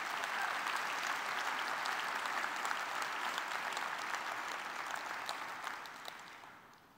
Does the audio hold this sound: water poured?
no